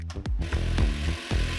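An Axi cordless power tool with switch technology whirs in a commercial, in short loud bursts whose pitch rises and falls as it starts and stops, alone and without speech.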